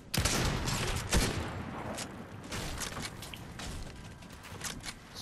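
Gunfire in the video game Fortnite, a burst of rapid shots opening with a sharp loud crack, followed by further scattered shots and a trailing rattle, with no voices.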